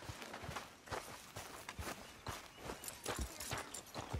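Horse hooves walk in the video game Red Dead Redemption 2, a steady clip-clop of evenly spaced, close hoof steps on the ground, fairly quiet and without talk.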